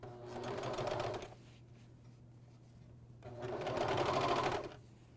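AirThread 2000D Professional serger sewing a bathrobe, two close bursts of fast, even chattering stitching separated by a pause of near quiet over a low steady hum.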